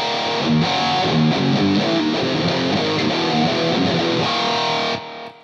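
A short distorted electric guitar turnaround phrase, loud and driving, played alone and ending with a brief ring-out.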